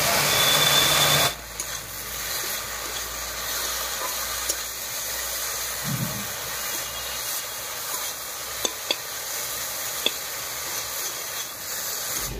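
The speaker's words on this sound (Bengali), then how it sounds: "আলুটা মোটামুটি ভাজা হয়ে গেছে।" Potato pieces fry in hot oil, spiced with turmeric and salt, giving a steady, close sizzle with a few sharp clicks from stirring.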